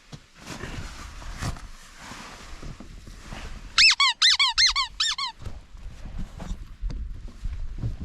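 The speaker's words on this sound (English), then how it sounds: "That's your squeaky ball, isn't it?" A squeaky dog toy ball squeaks in a quick burst of about seven sharp, loud squeezes near a farm with cows, surrounded by outdoor rustling and low background noise.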